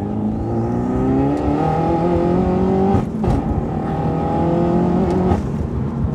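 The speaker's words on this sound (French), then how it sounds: "Marche bien quand même le 4 cylindres, hein." A Peugeot 308 RC with a four-cylinder engine tuned to 325 hp accelerates hard, its loud engine tone climbing steadily through the revs with a brief dip near the middle as the gear changes, then pulling on again without any talk.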